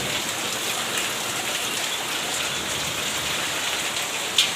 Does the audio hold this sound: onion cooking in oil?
no